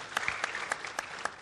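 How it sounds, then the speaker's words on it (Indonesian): Scattered, fairly faint applause from an audience celebrating the Smart FM radio group's 15th anniversary, a handful of separate claps spread across a brief moment. "Tepuk tangan dulu buat mereka"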